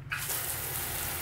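Water rushes steadily from a pull-out faucet into a stainless sink, fed by the 12-volt battery-powered pump of a tiny house toy hauler RV. It is a continuous close gush that starts almost at once and keeps going without talk.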